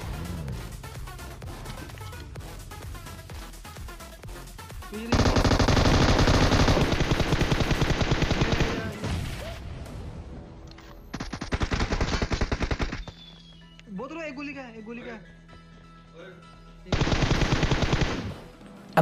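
An M249 light machine gun in PUBG Mobile fires several long, loud, rapid bursts separated by pauses, with quieter game sounds and faint tonal effects between bursts, no talking.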